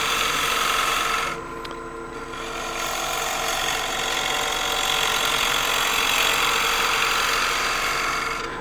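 A wood lathe turning a shallow bowl as a gouge takes a light finish cut, giving a continuous rough scraping whir with steady motor hum, close and even, with no talk.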